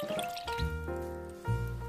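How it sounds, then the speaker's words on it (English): A glass of water is poured into a cooking pot for churro dough, giving a short, moderately loud splash and trickle with ringing, shifting tones as the pot fills. There is no talking. "grab a glass of water, and then pour that bad boy into your favorite pot"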